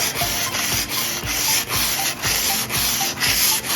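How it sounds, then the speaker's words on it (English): Sandpaper rubbed back and forth against a brushed metal shower door to scrape off rust, a steady rhythmic scratchy rasping with regular strokes, close and fairly loud throughout, no voices. "You're just slightly scraping off that rust."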